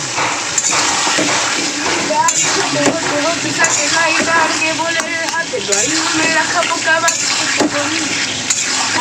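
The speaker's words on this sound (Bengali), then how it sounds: "এর মধ্যে দিয়ে দেবো পটলটা আর ভেজে রাখা শিঙি মাছটা দিয়ে একটু মশলার সাথে কষিয়ে নেব ভালো করে" Pointed gourd and pre-fried singi fish cook in spices in a pan, with a steady sizzle and a scraping spatula stirring under a speaking voice throughout.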